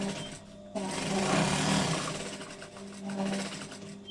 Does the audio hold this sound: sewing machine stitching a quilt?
yes